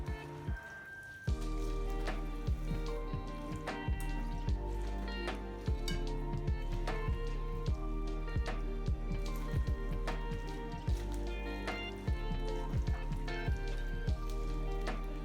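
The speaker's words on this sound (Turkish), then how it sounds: "Bütün malzemelerimizi karıştırıyoruz" Black-eyed pea salad ingredients stirred in a bowl, a steady run of soft wet squishes and clicks from the spoon in a regular rhythm, close up with no talk.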